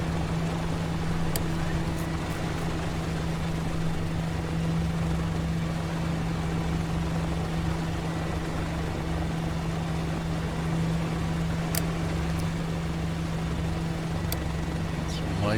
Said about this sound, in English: Both engines running nicely.